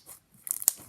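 Crunchy slime squeezed by hand gives a few sharp close crackles and crunches, with a brief quiet gap before a burst of crisp popping snaps.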